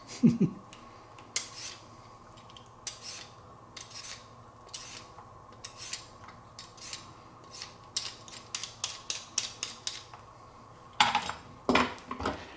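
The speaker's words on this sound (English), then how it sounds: "Then they'll give the cucumber a bit of a peel." A cucumber is peeled for a ginger carrot salad, making a run of short, crisp scraping strokes in a quick, uneven rhythm, ending in a louder burst of rasping at close range, with no talking.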